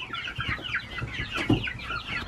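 A rooster on a backyard homestead farm clucks in quick, close, repeated bursts, with one louder note in the middle.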